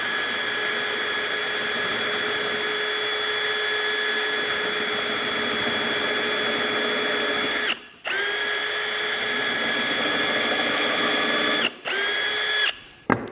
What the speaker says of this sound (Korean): 드릴을 이용해 사선으로도 구멍을 뚫을 수가 있습니다.